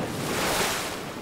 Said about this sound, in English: Waves spill into the forest and flush out the roots of trees until they fall